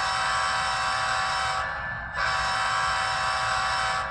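A model train locomotive's sound system sounds its horn in two long, steady, buzzy blasts with a brief break between them, loud and close, with no talking.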